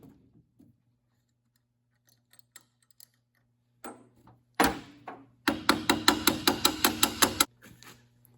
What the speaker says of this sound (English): An impact makes real quick work of that.